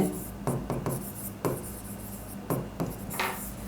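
A pen writes on paper near the listener in short, uneven bursts of scratchy strokes separated by brief pauses, with a faint background hum.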